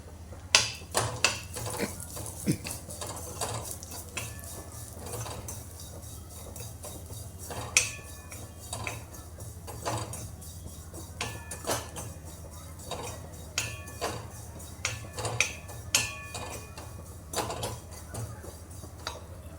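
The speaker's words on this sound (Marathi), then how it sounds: "एक चमचा खसखसही परतून घेऊया" Poppy seeds and dates being sautéed in a metal kadhai for fenugreek laddoos, stirred with a spoon that gives repeated clinks and scrapes against the pan over a low steady background.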